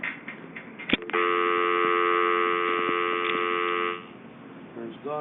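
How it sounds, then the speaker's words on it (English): Steady telephone dial tone from a 210 telephone handset, a continuous two-pitch hum that holds for about three seconds and then stops, close and fairly loud. "There's dial tone."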